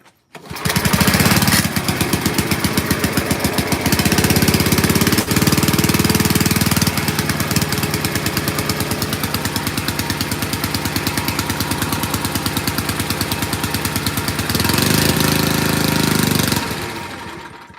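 Abandoned farm-built machine with its engine running on choke, a loud, steady rough chugging that holds for most of the stretch with a few surges and dips in pace.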